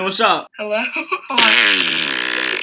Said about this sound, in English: That was loud. You just farted.